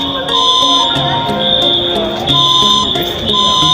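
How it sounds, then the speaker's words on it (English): A building smoke detector alarm sounds a loud, steady high-pitched tone that holds throughout, with faint voices and background noise underneath. "Here's the smoke detector's going off."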